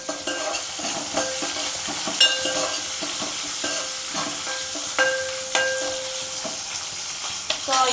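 Brinjal masala curry frying in a pan, a loud continuous sizzle with frequent spatula stirring scrapes and clinks throughout, no talking.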